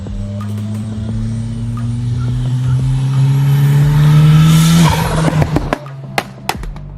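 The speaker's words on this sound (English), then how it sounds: "pops and bangs, and they're not like normal pops and bangs which you are used to hearing. It's something like a race car." A modified Skoda Octavia VRS with a race-car-like engine revs hard and loud up to a peak, then drops off into a run of sharp exhaust pops and bangs near the end.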